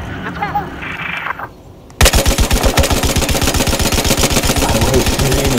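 Video game gunfire: after a brief quieter stretch, a loud rapid burst of automatic weapon fire rattles continuously in an even fast rhythm over engine rumble, close and dominant.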